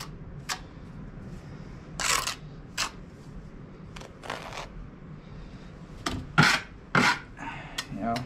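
A trowel spreading mortar across a wall for stone veneer, with scattered scraping and rasping strokes, some sharp and close, over a faint background hum.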